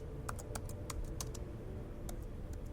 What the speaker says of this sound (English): using a small machine called a steno that looks a bit like a typewriter but without letters, can take notes so fast